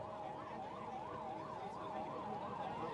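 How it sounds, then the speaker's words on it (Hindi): An ambulance siren wails steadily with a fast rising-and-falling tone through a large crowd at a political nomination rally in Haryana, loud and continuous under the background din. "ये एम्बुलेंस को जगह देना भाई, जो एम्बुलेंस आ रही है"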